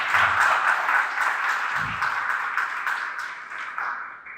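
Applause from a conference audience, moderate and somewhat distant, carries on steadily before gradually thinning out.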